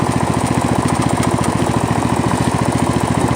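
A Poulan lawn tractor's engine runs steadily on its first start of the year, a loud, close, rhythmic chugging drone that holds even throughout with no talk.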